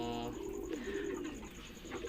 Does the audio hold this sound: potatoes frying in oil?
no